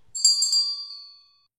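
A bright notification bell chimes once and rings out, fading away within about a second.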